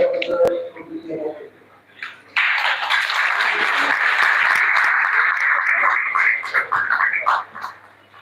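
A room full of guests at a Rotary Club installation ceremony in Pimpri breaks into sustained applause after about two seconds of quieter sound, the clapping holding steady and dense before tapering near the end.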